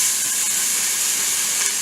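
Onions and cauliflower hit a hot pot with a steady, loud, bright sizzling hiss that stays even throughout, with no talking.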